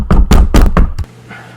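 Four loud, close knocks on a door in a quick uneven run, with a faint hum left behind after they stop.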